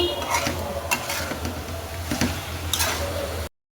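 Fried chicken pieces stirred and sautéed in a pan with onion and garam masala powder, with steady scraping and clattering stirs and a soft sizzle running throughout, close and loud, cut off abruptly at the end.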